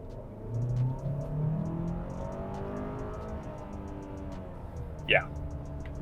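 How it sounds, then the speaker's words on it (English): A 2022 Hyundai Santa Fe Limited in sport mode accelerates, its engine tone climbing steadily inside the cabin for several seconds, followed by a brief sharp chirp near the end. "let's go ahead and get a little bit of an acceleration test"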